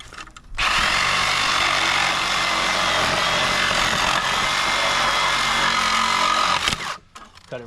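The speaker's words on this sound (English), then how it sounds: "Then take Sawzall." A Sawzall reciprocating saw bites into pallet wood, starting abruptly and buzzing loud and steady for about six seconds before cutting off, with a faint clatter around it.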